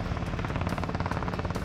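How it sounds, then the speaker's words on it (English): A helicopter flies with its rotor blades turning, producing a loud, steady, rapid chopping thump from close range and no voices. "Captain Kate controls the helicopter by pointing the rotor blades in the direction she wants the helicopter to fly."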